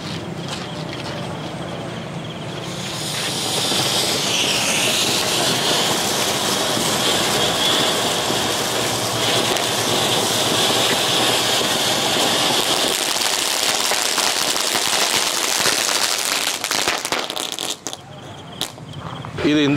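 An elephant-shaped firework fountain sprays sparks from its trunk, a loud continuous hissing roar that swells after a few seconds, holds steady and cuts off near the end.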